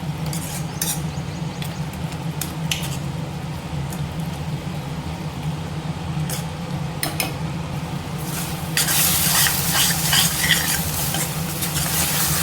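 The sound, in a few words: chutney boiling and sizzling in pan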